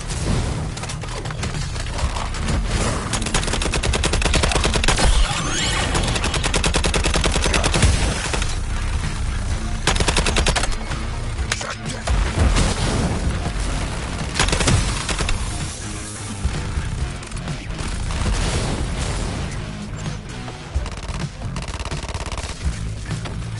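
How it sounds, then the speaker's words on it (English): Dense, continuous video-game gunfire with rapid automatic bursts and booming explosions, loud and sustained throughout with no break. "Firing on Deadshot's target"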